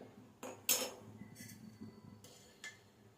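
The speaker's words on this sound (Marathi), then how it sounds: "त्यासाठी गॅसवर छोटंसं एक भांडं ठेवलं." A small pot is set down on a gas stove with a few quiet metallic clinks and clatters, one sharper knock among them, in an otherwise hushed kitchen.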